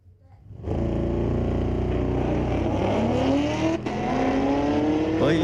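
A Camaro and a 1972 Oldsmobile launch side by side at a street-legal drag race, engines bursting from near silence into a loud sustained roar with rising revs and a brief gear-change dip.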